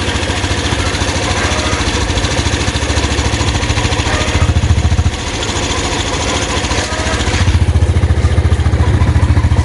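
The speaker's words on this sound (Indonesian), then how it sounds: "Nah ini dia bunyi mesinnya." A 2019 Yamaha Jupiter Z1 motorcycle engine runs steadily close by, a dense even putter with light mechanical clatter, briefly dipping and then picking up slightly louder near the end.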